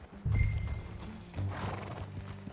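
A horse in Red Dead Redemption 2 whinnies loudly up close, followed by a second, softer neigh and the light clop of hooves in a quiet Western setting.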